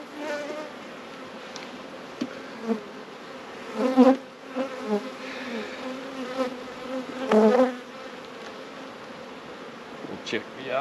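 Honey bees buzz steadily around an open hive with a honey box on, a close insect drone with brief louder passes near the microphone, light handling knocks and a faint voice in the background.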